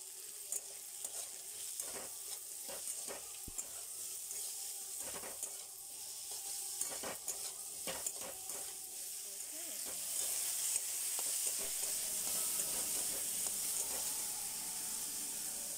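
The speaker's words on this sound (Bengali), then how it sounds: "গ্যাসটা একটু কমিয়ে তারপরে এইগুলো ভাজতে হবে, না হলে পেঁয়াজটা পুড়ে যাবে।" Onions fry over low gas in a pan for koraisutir ghughni, a faint continuous sizzle broken by soft stirring scrapes, growing slightly hissier and louder in the later seconds.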